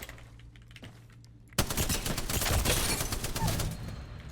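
Rapid machine gun fire in Apex Legends bursts in after a quiet stretch of faint clicks, a dense sustained volley of loud shots continuing to the end.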